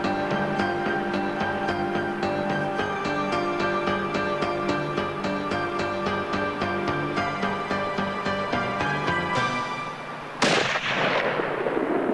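A single rifle shot fired at a bear while hunting: one loud, abrupt report near the end with a fast decaying rumble, preceded by steady tonal background music.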